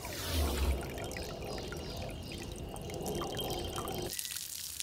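Rainwater from a cistern pours into a drum filter packed with layers of gravel, fine gravel and marble dust, a steady rushing splash that runs evenly for about four seconds and then cuts off, heard alone without talk.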